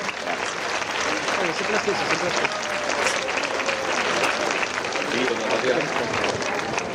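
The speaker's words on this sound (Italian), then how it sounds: "Perciò direi di fare un applauso fortissimo proprio per questa idea bellissima" Long, loud applause from a crowd, dense and continuous for about seven seconds, with voices faintly audible beneath the clapping.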